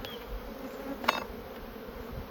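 Honeybees buzz in a dense, steady hum around a hive frame during a spring colony split, close and continuous, with one brief sharp click partway through.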